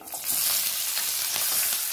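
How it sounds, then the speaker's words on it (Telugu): Tempering spices, peanuts and chana dal sizzle and crackle in hot oil for rava pulihora, a close, steady hiss with soft stirring. "ఈ పోపు దినుసులు చక్కగా వేగిపోయినాయి"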